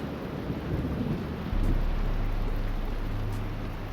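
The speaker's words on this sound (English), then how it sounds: "The rain outside of the emulsion factory is thick and constant." Thick, constant rain falls outside the emulsion factory level of the Gears of War video game, a steady hiss that swells midway as a deep, sustained rumble joins in.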